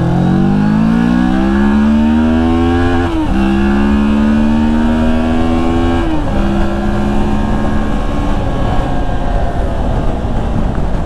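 A Moto Morini X-Cape 650 adventure motorcycle being ridden, its engine note loud and steady as it climbs through the revs, with two clear gear shifts where the pitch drops and rises again.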